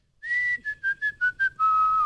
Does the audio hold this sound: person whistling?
yes